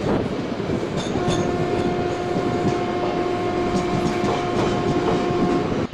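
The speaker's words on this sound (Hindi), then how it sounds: "हमारी अवध एक्सप्रेस भी स्लोली स्लोली जो है अपनी स्पीड पकड़ रही है।" Avadh Express hauled by a WAP4 locomotive in Indian Train Simulator, a steady loud rumble of wheels and carriages with rhythmic clickety-clack and a faint sustained tonal whine as the train slowly gathers speed.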